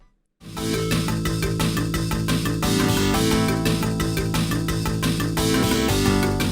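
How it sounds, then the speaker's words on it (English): Main theme music from Sega's 1987 arcade game Afterburner, a dense, loud, driving track with steady beat and bright synth layers, starting after a brief silence and playing continuously. "This was an arcade game released by Sega in 1987, and the main theme sounds like this"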